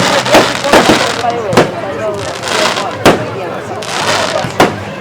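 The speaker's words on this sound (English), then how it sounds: "How long are the fireworks going on for?" Bonfire night fireworks bursting outdoors, with several sharp loud bangs spaced a second or so apart over a steady crackle and crowd hubbub, while people talk nearby.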